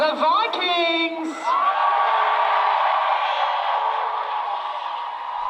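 After a short spoken announcement, a crowd erupts for the Vikings team at a crowd-voted contest, loud steady cheering and whooping that carries on for several seconds.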